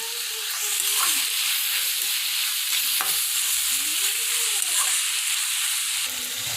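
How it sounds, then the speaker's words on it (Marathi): Tomato and capsicum sautéing in oil in a pan on the stove, a steady close sizzle with stirring scrapes throughout, no talking. "या भाज्या सर्व उलट सुलट करत चांगल्या व्यवस्थित परतून घ्या"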